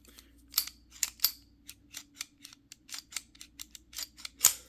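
A pistol slide is racked by hand, giving a close series of sharp metal-on-metal clicks and scrapes at irregular intervals, some louder snaps among softer clacks, with a quiet hum underneath.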